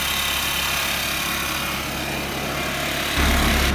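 Honda Elite CH80 scooter with an auto choke, idling a bit high, gives a loud, steady buzzing drone close by throughout. The note swells slightly louder near the end, and nobody speaks.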